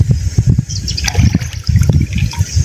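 Water splashes and sloshes in rapid irregular bursts as a fishing sieve is hauled out of a village stream, close and loud, without speech.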